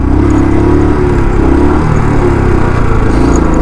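Royal Enfield 350 BS6 motorcycle engine running steadily with a low, continuous thumping rumble, loud and close, on a road ride without pause.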